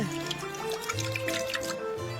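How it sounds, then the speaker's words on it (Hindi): Water poured into a cooking pot in a video game, a short liquid trickle and drip over steady game sounds with low tonal hums, with no talk. "अब थोड़ा पानी डाल देते हैं।"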